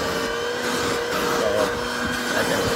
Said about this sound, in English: Okay, vacuum everything that you need to vacuum.